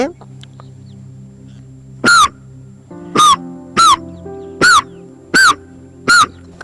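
A person imitates a crow's caw: six loud, harsh calls, one alone and then five spaced about half a second apart.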